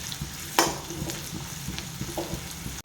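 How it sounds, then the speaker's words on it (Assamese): Panch phoron whole spices fry in hot oil in a pan while Assamese fish pitika is being cooked, giving a steady, fairly quiet sizzle. One sharp clink of stirring sounds early on, with lighter scrapes after it. "পাঁচফোৰণখিনি ভাজি লৈছে"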